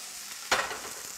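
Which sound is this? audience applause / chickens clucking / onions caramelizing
onions caramelizing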